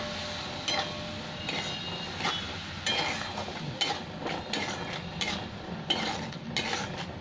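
Spice masala of cumin and coriander powder is fried and stirred in a pan with splashes of water, a continuous sizzle broken by repeated rhythmic clinks and scrapes of a metal spoon against the pan.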